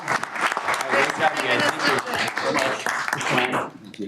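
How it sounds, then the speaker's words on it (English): Applause from attendees at a transportation committee meeting, a dense burst of many hands clapping close by for about three and a half seconds before stopping abruptly, with voices mixed in. "One more round of applause."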